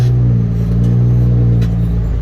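A dump truck engine holds about 1500 rpm while climbing a hill, giving a loud, steady low rumble with a constant droning hum and no talk.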